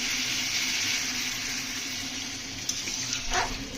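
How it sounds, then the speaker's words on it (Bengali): Water pours steadily into a pan of cooking kohlrabi curry to make the gravy, a continuous close splashing stream lasting a few seconds, ending with a small clink. "আমরা জল দিয়ে দেবো ঝোলের জন্য"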